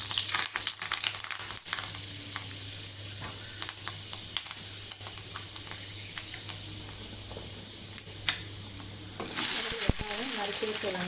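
Chopped onions, tomato, chilli and curry leaves sizzle and crackle steadily in hot oil for a Tamil fish curry, a continuous close frying hiss that swells louder near the end as more goes into the pan.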